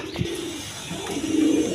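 Gola pigeons, a pair of a fancy breed kept for sale, cooing in low soft repeated notes close by, with no talk over them.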